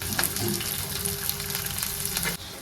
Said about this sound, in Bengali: কড়াইতে তেল দিয়ে দিলাম, পেঁয়াজ কুচি দিয়ে দিলাম, কাঁচা মরিচ